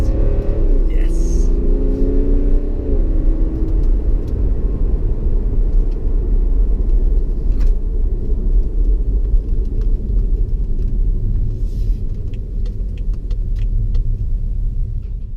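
A car driving on a race circuit toward the hairpin, heard from inside as a steady low engine drone and road rumble with a brief rising rev near the start, loud and continuous under faint background talk.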